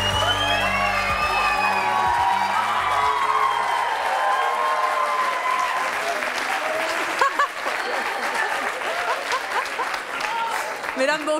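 A studio audience on the French talk show C'est mon choix breaks into sustained loud applause with cheers and whoops as guests arrive, a dense steady roar of clapping lasting throughout.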